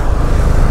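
Dense, steady wind and engine roar from a TVS Apache RR 310 motorcycle cruising on the Yamuna Expressway in hot weather, loud and close, with no talking.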